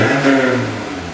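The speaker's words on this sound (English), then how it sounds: "Give it a little rev here." A Honda S2000 engine gets a short rev inside the car, a loud throaty rise and fall of engine tone over about a second, with no one talking.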